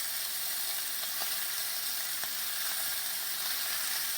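Pieces of cut pork frying in a pan over medium heat for pork chile verde, a constant hissing sizzle with a few faint clicks and taps, quiet and unbroken, with no voices.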